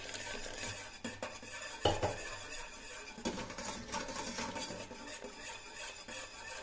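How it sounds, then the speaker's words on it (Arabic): Spoon stirring a pot while hot water is gradually added for Syrian stuffed zucchini, with repeated scraping and clinks against the metal pot and a soft underlying sizzle, no talk. "بنضيف عليها تدريجيا وبنحرك بنفس الوقت"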